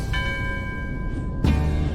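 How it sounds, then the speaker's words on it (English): An underwater bell at a submerged Shinto shrine rings out in two clear metallic strikes, the second one louder, each leaving a sustained tone that hangs over a muffled underwater background. "He calls the fish by hitting the underwater bell."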